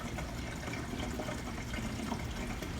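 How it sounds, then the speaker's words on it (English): Water pours steadily into the water tank of a Comfee mini countertop dishwasher in a continuous, close, rushing splash with no breaks and no talking. "filling up a container of water and pouring it carefully back here"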